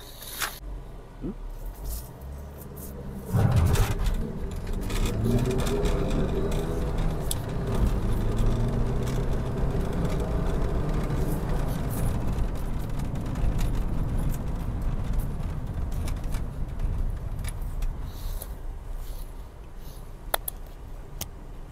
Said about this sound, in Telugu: ఇప్పుడు ఫస్ట్ గేర్ వేసి బండి స్టార్టింగ్ పికప్ ఎంత వస్తుందో చూద్దాము